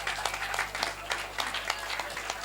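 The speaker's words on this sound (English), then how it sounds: "Can we have a round of applause for all these 6 teams?" Applause for six quiz teams at a quiz event, scattered claps rising and falling unevenly across the room, with some voices mixed in beneath.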